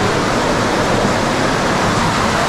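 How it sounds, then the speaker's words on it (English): Water rushing into an underground river cave, a steady, loud broadband roar of flowing water that fills the whole stretch without pause. "this is a cave. Oh my god. With like a bunch of water flowing into it."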